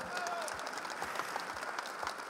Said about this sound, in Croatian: Čestitke i aplauzi.